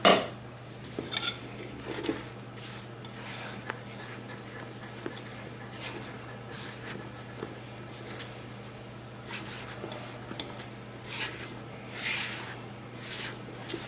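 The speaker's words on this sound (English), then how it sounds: "Stir it till most of it's in, like that." A spoon stirs flour mixture into cookie dough in a bowl for cherry oatmeal cookies, giving repeated close scraping and rubbing strokes against the bowl with occasional knocks, in an irregular rhythm and with no talk.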